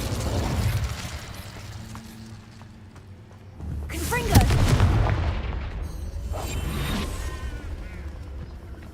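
Incendio fire spell cast in Hogwarts Legacy, a loud roaring burst with crackling booms rising mid-clip after quieter rumbling, over a low bed of game sound with some voice present.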